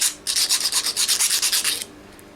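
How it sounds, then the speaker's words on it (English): A hand file is rasped over the burrs on rivet-sized metal washers, giving about a dozen quick, even, loud strokes in a steady rhythm right at hand, with no voice. "I've got a file here that's the size of the rivets. Just give it a quick pass, just takes any burrs out"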